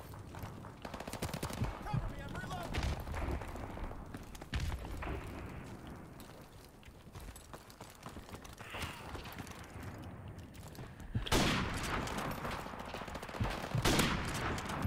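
Rapid automatic gunfire and single shots from the video game Call of Duty Modern Warfare Remastered, loud and continuous across the whole stretch, with heavier bursts near the end and some talk mixed in.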